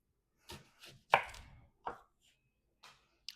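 A knife chops through a large onion on a cutting board, a handful of sharp separate cuts at an uneven pace with brief pauses between them, close and clear with no talking.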